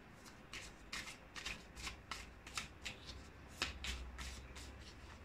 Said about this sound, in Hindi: मैंने कार्ड्स को शफल कर लिया है।